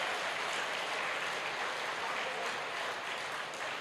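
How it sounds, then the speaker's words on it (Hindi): An audience claps at a live youth evening talk in Ranchi, making a steady, dense wash of applause that holds for the whole stretch at a moderate level. "अब बजाओ ताली, अब बजाओ ताली"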